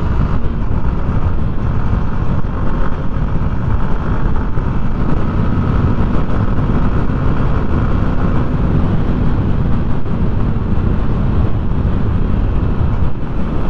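TVS Apache motorcycle being ridden, with steady engine and road rumble close by throughout, steady wind noise across the microphone, and no talk.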